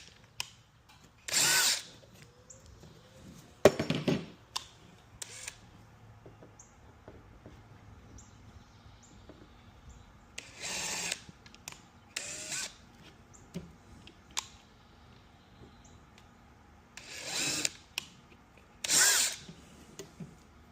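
A power drill cuts small countersinks into screw holes in a PVC replacement board for an Adirondack chair, heard as several short whirring bursts separated by quiet pauses, close by and without talk.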